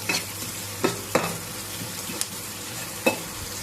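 Onions sauté in a pan for a goat head curry, with a constant hiss of frying and occasional sharp spatula knocks and scrapes, heard up close with no talking.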